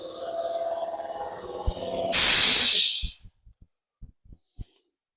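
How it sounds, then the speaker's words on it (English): A workshop air compressor is shut off, releasing a loud, sharp burst of hissing air that lasts about a second and fades, followed by a few faint clicks and taps in near silence, after a softer running hum. "I'm just going to turn off this compressor."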